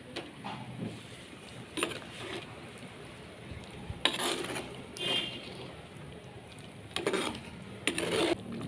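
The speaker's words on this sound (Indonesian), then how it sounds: "Aduk lagi." Jengkol and lokan clams stirred in toasted coconut spice in a pan, with repeated scraping and clinking strokes of a spoon against the pan in irregular bursts over a low background.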